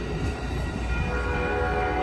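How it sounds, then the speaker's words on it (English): An Amtrak Coast Starlight train, P42D locomotive 139, sounds its horn as it passes 98th Ave in Oakland, California, a loud sustained blast over rumbling wheels. "You gotta love that beautiful horn on that 139."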